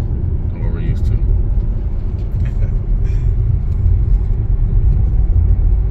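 A 2023 Dodge Hornet GT Cueball heard from inside while driving on the road: a constant low engine and tyre rumble fills the cabin, with people talking over it.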